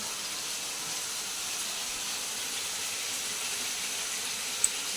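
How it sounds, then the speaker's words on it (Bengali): Tap water running steadily into a sink as spice plates are rinsed in a home kitchen, a continuous close hiss with no talk and one brief clink near the end. "মশলার প্লেটগুলোকে ধুয়েই জল দেবো।"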